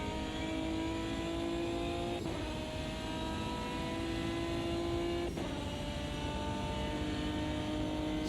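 A 2005 GT1 race car in the Automobilista 2 sim at Monza screams at steady high revs out of a fast corner, with two quick upshifts breaking the sustained, loud engine note.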